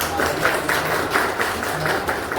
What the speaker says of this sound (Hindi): एक बार ताली होनी चाहिए